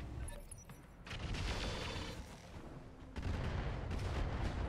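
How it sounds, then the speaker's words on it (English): Heavy weapons fire in RogueTech, a BattleTech mech game, with a turret carrying a Gauss rifle: a dense, rumbling barrage of booms and impacts that swells twice, loud and continuous with no voices. "They're firing pretty heavily on the Hunchy right now."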